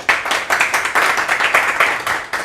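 Enthusiastic clapping in a radio studio welcoming guest musicians, a few hands beating in quick bursts that swell and dip for a couple of seconds, close and fairly loud with no voices over it.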